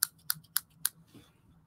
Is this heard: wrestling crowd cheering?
no